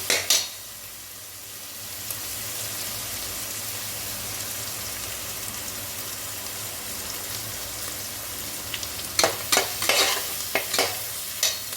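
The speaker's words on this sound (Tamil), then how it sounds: "நல்லா கிண்டி வச்சுட்டு ஒரு 10 செகண்ட் கழிச்சு தக்காளி சேர்க்கணும்." Biryani masala sizzles steadily in a pan for chicken biryani while a spoon stirs it, with a run of sharper scraping clatters near the end; no one speaks.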